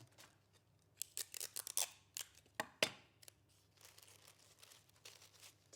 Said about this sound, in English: Taping it to our outline.